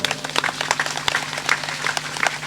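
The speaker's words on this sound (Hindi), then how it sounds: "चलो ताली बजाओ" A devotional group of singers and listeners in rural Chhattisgarh claps together in steady, scattered hand claps, moderately loud and fairly close, with a low hum running underneath.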